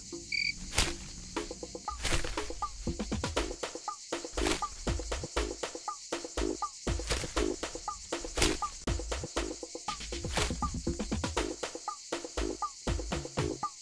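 Frogs croak in a rhythmic chorus of sharp, repeated calls, loud and close, with a constant high insect buzz behind them and no voices.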